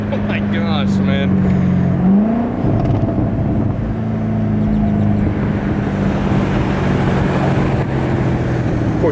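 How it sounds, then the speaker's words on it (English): A Corvette C7 ZR1's engine and exhaust drone loudly and steadily from inside the car, with a rising rev sweep near the start, while people talk over it. "That exhaust is the best radio noise ever."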